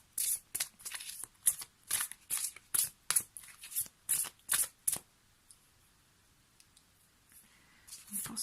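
Water-spirits oracle cards shuffled close up in a quick series of about a dozen sharp papery riffles, then a few seconds of near silence before one more soft slide.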